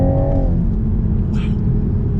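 A 2021 Toyota Supra with BMW-sourced running gear accelerates hard with a loud, steady engine roar recorded from close by, a brief voice rising over the rumble partway through.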